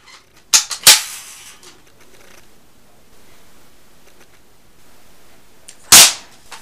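An airsoft M4 rifle fires a few sharp, close cracks, two in quick succession and then a single louder one after a quiet pause.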